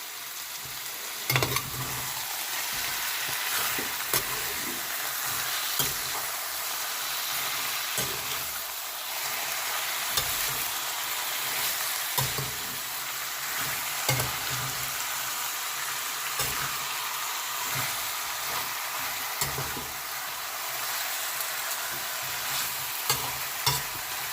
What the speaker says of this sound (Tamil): இப்போ நாம் இதை நல்லா மிக்ஸ் பண்ணிடலாம்.